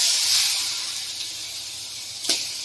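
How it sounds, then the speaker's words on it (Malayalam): Washed, squeezed beef goes into a hot pan for a Kerala-style roast, producing a broad steady hiss of sizzling that fades slightly, with one brief sharp spit near the end. "ഇനി ഇതിലേക്ക് കഴുകി നമ്മൾ പിഴിഞ്ഞു വെച്ചിരിക്കുന്ന ബീഫ് ചേർത്ത് കൊടുക്കുകയാണ്"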